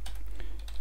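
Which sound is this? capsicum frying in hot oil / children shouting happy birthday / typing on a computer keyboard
typing on a computer keyboard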